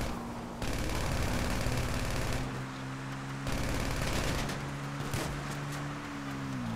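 Sustained rapid gunfire rattles through Grand Theft Auto V Online, with dense automatic bursts lasting several seconds over a steady game soundtrack, briefly pausing and then resuming loud and close.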